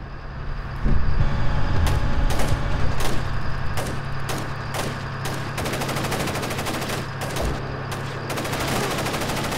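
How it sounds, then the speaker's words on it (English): Gunfire rings out in a Splinter Cell: Chaos Theory mission in Seoul, South Korea: repeated sharp bursts and single shots crack over a loud, steady background rumble, continuing throughout. "Don't know who's shooting where, but oh well."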